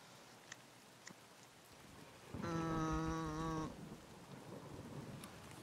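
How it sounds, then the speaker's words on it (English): Steady rain hisses across the scene in the Escape from Tarkov shooter game, with distant thunder rumbling faintly and a brief tonal hum in the middle; no one speaks. "it's raining, which is what you love to see"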